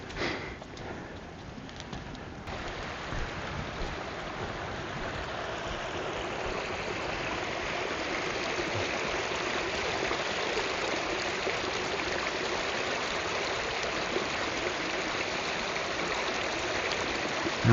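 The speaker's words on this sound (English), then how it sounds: "Just spotted a waterfall," Waterfall near Wet Sleddale Reservoir, heard as a steady, even rush of falling water filling the scene from start to finish, with no talking.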